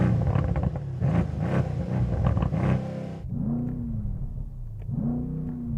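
A BMW M3 Touring straight six and an AMG C63 S Estate V8 revving while stationary, loud rising engine blips held against a soft limiter, one engine's rapid revs giving way to the other's deeper, swooping revs.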